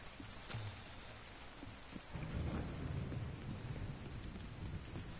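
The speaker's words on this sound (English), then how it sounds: "It's that storm that's rolling in." Thunderstorm rolling in within the video game Division 2: a low thunder rumble builds under steady falling rain, fairly faint and with no voices.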